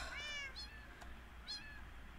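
Cats in the Minecraft video game meow in a few short, faint calls, one after another with brief gaps, alone without talking.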